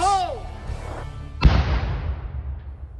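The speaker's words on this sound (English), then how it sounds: "that explosion was controlled and intentional" A grenade-type explosive device is set off in a controlled blast underwater in a creek, heard as a single sharp boom that fades away. A whistling tone sounds just before it.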